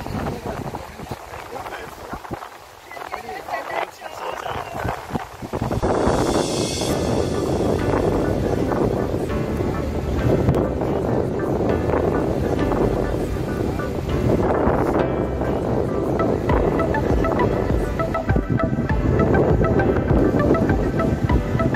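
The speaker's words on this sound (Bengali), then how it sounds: "প্রচন্ড হাওয়া চলছে, এদিকে খোলা সমুদ্র, বেশ শীত করছে।" Strong wind gusting at Shorncliffe Beach in Brisbane, Australia, by the open sea, roaring into the microphone and growing louder after a quieter start, with a person talking through the blustery noise.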